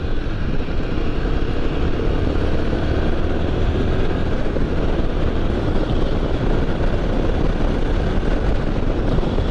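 A Royal Enfield Himalayan 450 motorcycle's engine drones steadily while riding in sixth gear, a continuous loud rumble thickly mixed with heavy wind noise across the helmet, with no pauses throughout.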